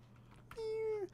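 A cat in the Minecraft video game gives a single short meow, a clear rising-then-falling tone lasting about half a second over a quiet background.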